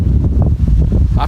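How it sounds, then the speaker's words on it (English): Wind pushes sideways against a Naturehike Opalus 3 tunnel tent pitched at a slight wrong angle to it, a loud, steady low rumble with buffeting gusts and brief flaps near the end. "It's getting the wind sideways"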